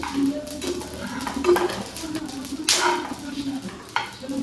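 Dry spices scraped and stirred in a pan, with intermittent metallic clinks of a utensil against the pan and a faint sizzle underneath.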